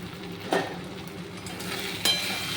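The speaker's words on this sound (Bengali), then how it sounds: "ভালো করে কষে নেবো যতক্ষণ না মশলার গা থেকে তেল বের হচ্ছে ততক্ষণ আমি সমানে কষে যাব মশলাটা" Spice masala with tomato, coriander powder and cumin powder is stir-fried in a pan alongside potatoes and mushrooms. A faint, low sizzle runs throughout, broken by two brief utensil scrapes against the pan, with no talking.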